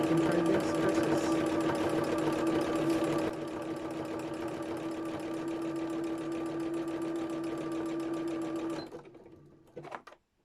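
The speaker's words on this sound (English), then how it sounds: "So we're just going to sew this circle on now" A sewing machine runs continuously while free-motion quilting a circle onto an art quilt made from Gelli-printed fabric scraps, a loud, steady whirring that slows and stops near the end, followed by a few faint clicks.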